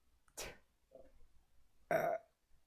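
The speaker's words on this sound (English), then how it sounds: "I got a burp." A single loud, close burp bursts out alone in a quiet room, preceded by a brief breathy sound and a faint murmur.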